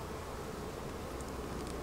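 Honey bees, nurse bees clustered on a frame from a queenless hive in a bee yard, hum in a soft, steady drone, faint and continuous.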